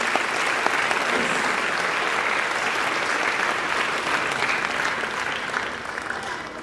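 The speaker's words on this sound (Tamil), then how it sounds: "எல்லோருடைய பெற்றோர்களுக்குமே நம்ம கைத்தட்டி ஒரு தடவை நன்றி சொல்லுவோமா?" A large audience claps steadily and loudly at a ceremony honouring parents, a dense unbroken wash of applause that holds for the whole stretch with a slight fade near the end.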